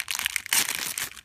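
Monster High doll packaging crackles and crinkles up close as it is opened with scissors, a quick run of crisp crumpling bursts ending in a louder rustle.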